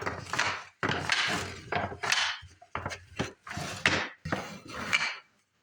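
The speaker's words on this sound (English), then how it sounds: "there's nothing more satisfying than the sound of wood clanking on the bench" Wooden boards of 2x4 stock knock and clank together on a workbench, several close, hollow thumps and clatters in irregular bursts, with brief pauses between.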